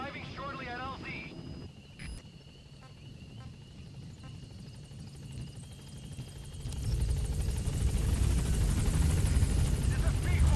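A helicopter approaches the landing zone in Metal Gear Solid V, its rotor rumble swelling from faint to loud and close near the end, with radio-style game voices speaking over the start.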